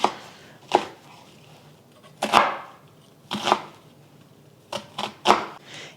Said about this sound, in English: I'm also using an onion. Just going to cut it up into fairly large pieces